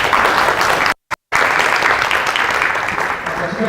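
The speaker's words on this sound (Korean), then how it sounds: "지금까지 발표해 주신 김태환님께 큰 박수 부탁드리겠습니다." An audience claps dense, steady applause for a presenter at a Python talk, loud and sustained with a brief cut in the middle.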